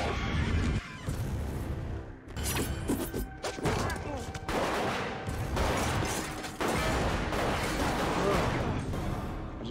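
Gunfire and crashing impacts from a Teen Wolf finale episode pound away in dense, heavy bursts that fill the whole stretch, loud and chaotic, with a voice talking faintly underneath.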